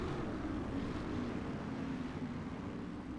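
Tractor engines warm up together at a motorsports park: a steady, dense low drone and rumble that carries on without a break, fairly faint, with no voices.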